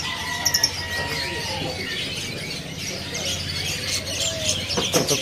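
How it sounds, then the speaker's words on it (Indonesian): Parakeets and other caged birds at a bird market stall chirp and tweet in a dense, continuous chorus, with a brief flutter near the start, while someone talks over the chatter. "Ini ada burung parkit ya."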